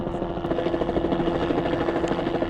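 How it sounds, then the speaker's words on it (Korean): A helicopter's rhythmic rotor thumping and engine drone fill the air overhead at a polar bear shelter, steady and fairly loud throughout. "보호소 상공이 헬기 소리로 시끄러워집니다."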